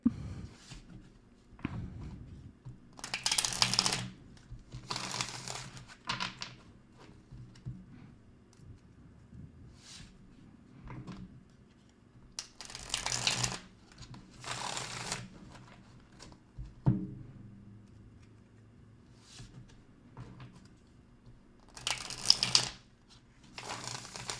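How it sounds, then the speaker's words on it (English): Cards are shuffled in several bursts of rapid riffling and fluttering, separated by quieter pauses with soft handling noises. "let me shuffle this deck real quick"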